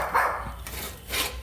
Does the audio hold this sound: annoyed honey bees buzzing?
no